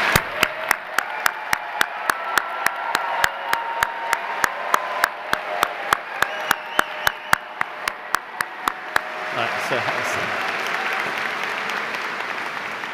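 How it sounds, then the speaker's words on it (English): An audience at a university engineering graduation ceremony applauds the graduates, with sustained crowd clapping alongside a steady, evenly spaced rhythmic clap or beat that stops midway while the applause carries on. "can they get some applause"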